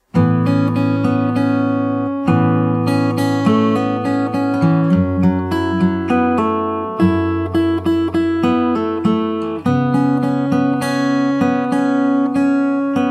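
An acoustic guitar plays the second half of a song's verse in fingerstyle, with continuous picked arpeggios and several chord changes, solo and up close.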